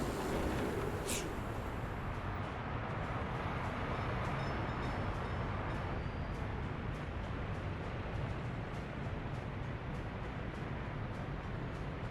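A train in the Soviet-era city-building game Workers & Resources: Soviet Republic rumbles steadily in a continuous broadband roar, with a brief high whistle-like streak near the start and faint clicks above, no talk.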